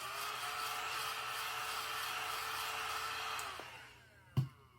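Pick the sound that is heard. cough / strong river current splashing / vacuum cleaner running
vacuum cleaner running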